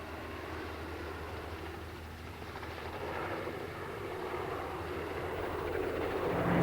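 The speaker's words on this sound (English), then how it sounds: "Within 2 minutes, the first helicopter was overhead," An army helicopter over rural Northern Ireland in the 1980s gives a steady broadband rotor and engine roar that slowly swells louder as it comes overhead, with no voices.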